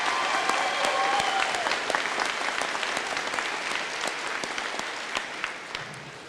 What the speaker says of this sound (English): please give President DePoe a big round of applause for all of his hard work and leadership